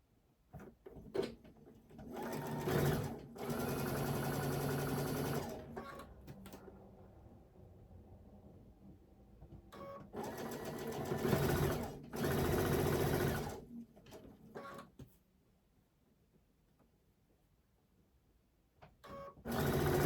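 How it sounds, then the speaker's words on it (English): Sewing machine stitching quilt fabric for a hen house quilt block, running in several loud bursts of a few seconds each, separated by quieter pauses with handling noises and some talk. "We're going to flip and stitch this."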